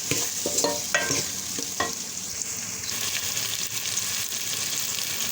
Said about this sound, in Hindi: आलूओं को अच्छे तरीके से हम करेंगे रोस्ट